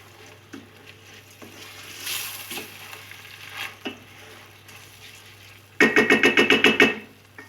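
Water pours into a hot pot of rice, meat and carrots for Uzbek pilaf, giving a sudden loud burst of sizzling spatter near the end that follows quieter frying crackles and stirring.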